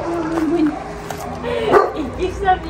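Small dogs bark and whimper at an animal shelter, short yaps rising over steady close conversation and shelter background noise.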